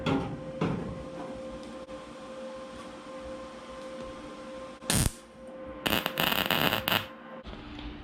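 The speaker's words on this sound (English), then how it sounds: "I'm gonna spare you the details on step-by-step welding" Welding a dash frame onto the roll cage of a 1970 Dodge Duster, with a steady low hum behind it and short harsh bursts of crackling arc noise, one near the middle and a longer buzzing run near the end.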